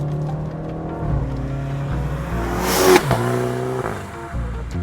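A tuned Stage 2 BMW G20 330i, rear-wheel drive with 300 hp and 450 Nm, accelerates hard after a downshift, its engine note loud and close and rising steadily, with a brief sharp surge near the middle.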